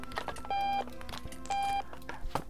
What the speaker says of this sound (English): That alarm's gonna drive me crazy.